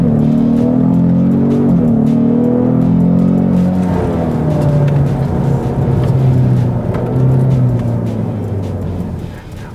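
A Ford Mustang 2.3 EcoBoost four-cylinder with sport exhaust accelerates hard down a straight in race track mode. The loud, close engine note climbs in pitch, breaks at gear shifts and climbs again, then eases toward the end.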